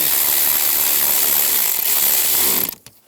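A power tool drives screws back in on a 2010-2017 Chevrolet Equinox fog light, a loud, close, continuous whir that runs steadily and then cuts off abruptly near the end.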